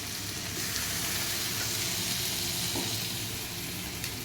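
Chilli baby corn frying in a hot pan as vinegar is poured in, giving a steady, loud, hissing sizzle that holds evenly throughout with faint stirring scrapes.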